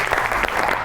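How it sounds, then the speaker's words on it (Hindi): A brief, loud burst of applause from a television studio audience during a comedy show. Thick clapping fills the moment. "आपकी बहुत सी तालियों में निम्रा मेहरा।"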